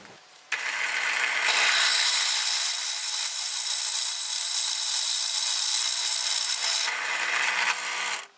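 A power drill whines continuously and loudly as it bores a larger hole for a motor screw in a Robot Wars robot build, starting abruptly and cutting off near the end.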